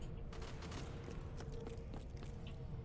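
Video game burst-fire weapon shooting in quick, dense clusters of sharp shots over steady game background noise, fairly faint and with no talking.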